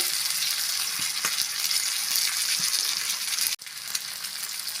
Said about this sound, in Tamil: நல்லா ஃப்ரை ஆயிடுச்சு பாருங்கள் சூப்பராக ஃப்ரை ஆகி நல்லா வந்திருக்கு